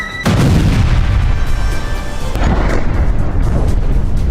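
An Israeli airstrike explosion in Baalbek, Lebanon, sets off a sudden, loud blast that swells into a sustained, heavy rumble lasting several seconds, close and overwhelming, with no voices.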